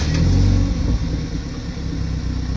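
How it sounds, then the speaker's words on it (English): A BMW 330i with its stock downpipe starts up, the engine catching with a loud burst and then settling into a steady, throbbing idle close by. "And here's the startup."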